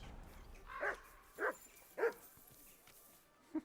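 Three distinct dog barks at roughly even half-second spacing, then a brief fourth yelp, from a dog in Kingdom Come: Deliverance II; moderately loud and close, with a quiet background.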